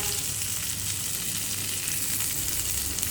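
Whole prawns fry in a pan with a steady, dense sizzle and crackle that holds evenly loud throughout, with no voices.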